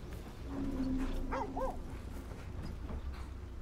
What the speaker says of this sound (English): I hear dog.